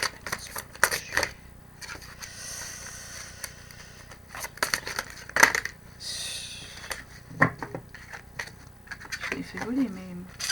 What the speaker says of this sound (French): Ça c'est du vol plané de cartes